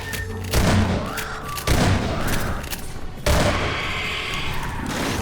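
Video game gunfire in sustained bursts, with players emptying full magazines into opponents: loud rattling volleys that restart with sharp attacks roughly every second and a half, with booming low thuds, over a dense continuous din.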